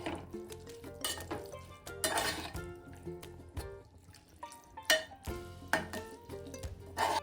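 A slotted spoon stirs grated carrots and milk in a pan for Agri-style gajar halwa, giving quiet wet squelches and occasional metal scrapes and knocks in irregular bursts, close and fairly soft, with no talking.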